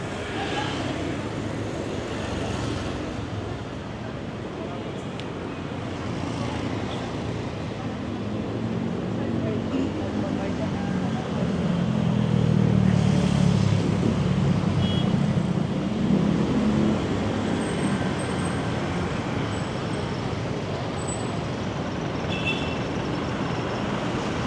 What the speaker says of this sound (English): All these armored vehicles going by.